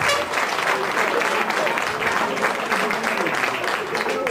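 An audience applauding at an event, giving dense, steady clapping throughout with a faint voice underneath.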